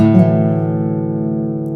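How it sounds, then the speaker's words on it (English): A guitar chord rings out and sustains, its notes blending into a steady fading tone. "when in actuality it's a roll of some kind that might more sound like this"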